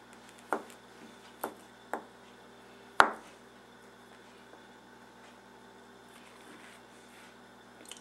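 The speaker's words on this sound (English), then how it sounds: "We're going to cube the butter just like we cubed our potatoes and our cheese" A knife cuts butter into cubes on a board for au gratin potatoes, making a few sharp, soft-edged taps at irregular intervals, close and quiet, the fourth cut the strongest, then near silence.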